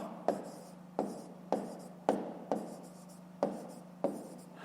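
Pen writing on paper for a school math exercise, short scratchy strokes in regular bursts about once a second, close and fairly quiet over a low steady hum, no talk.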